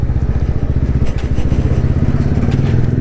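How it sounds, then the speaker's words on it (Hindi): TVS Ronin 225 motorcycle with a gear-shifting problem, its engine chugging steadily and loudly up close, and a clunk as a gear is shifted hard. "ये तेज़ से मैंने गियर मारा और हो गया भाई काम अपना।"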